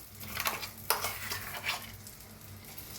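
Pea paste hits hot oil in a kadai and is stirred, giving a faint steady sizzle with scraping spoon-against-pan sounds and small clinks, close and quiet.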